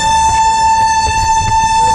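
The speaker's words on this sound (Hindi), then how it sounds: "दिल्ली पहुंच चुके हैं हजरत निजामुद्दीन रेलवे स्टेशन पे" A train sounds a loud, steady, piercing horn at Hazrat Nizamuddin railway station in Delhi, held without a break over a low rumble of station and rail noise.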